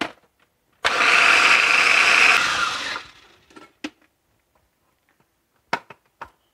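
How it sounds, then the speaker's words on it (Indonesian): A kitchen blender grinds soaked dried chilies with tomatoes for a sambal, a loud close whirring burst of about two seconds that stops abruptly, followed by a few faint clinks and knocks. "Cabai kering yang sudah direndam tadi kita masukkan sekalian dan kita blender."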